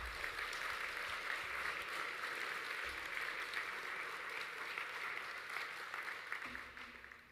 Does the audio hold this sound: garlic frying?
no